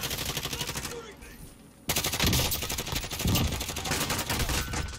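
Rapid bursts of video-game gunfire crackle loudly and almost nonstop, cutting out for a moment before resuming in dense overlapping volleys, with a voice briefly audible beneath the shooting.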